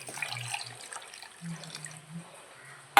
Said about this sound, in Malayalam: നമുക്ക് ആവശ്യത്തിനുള്ള വെള്ളം ഒഴിച്ചു കൊടുക്കാം